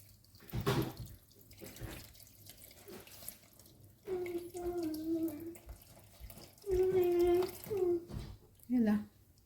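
Water drains from soaked ingredients through a colander in the kitchen, a soft splashing trickle and drips heard under a voice speaking over most of it.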